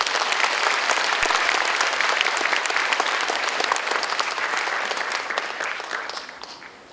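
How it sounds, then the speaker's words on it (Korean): A concert audience gives warm applause as a choir of bereaved families walks onto the stage at a book concert. The clapping is full and sustained, then gradually fades out near the end. "여러분 따뜻한 박수로 맞아주시죠."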